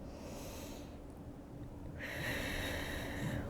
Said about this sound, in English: One more deep breath.